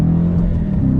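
A Dodge Challenger R/T with a 6-speed manual pulls away from a dead stop, its engine a loud, close, steady low rumble as throttle is applied.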